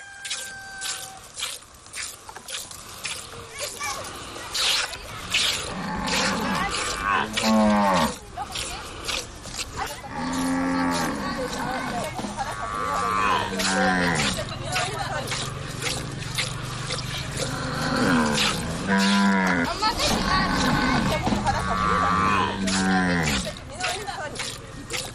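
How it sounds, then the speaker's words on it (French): Cattle low repeatedly in village milking enclosures in Pala, Chad, with deep drawn-out moos rising over a busy background of voices and activity across a long stretch. "Nous sommes accueillis par les beuglements des bœufs"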